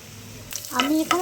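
Mustard greens going into hot oil in a pan, a soft sizzle starting about halfway through and building under a brief voice.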